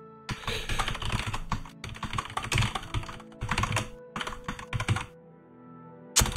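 Rapid typing on a computer keyboard during a programming session, a dense run of close, crisp key clacks in bursts with short pauses, then a near-silent stretch before a final single tap.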